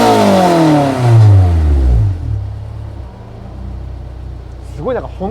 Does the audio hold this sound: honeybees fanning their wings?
no